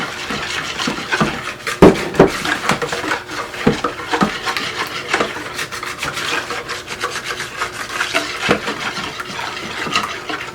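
Flour being mixed into eggs and milk in a bowl, a steady scraping and rubbing with soft irregular knocks of the utensil against the bowl, close and continuous.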